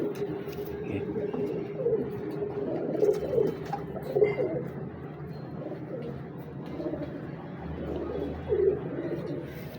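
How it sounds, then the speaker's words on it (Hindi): Several pigeons of a Teddy breeding pair setup coo softly nearby in repeated low, throaty bursts over faint background noise, with brief quiet speech in places. "बड़े तेज परों के कबूतर।"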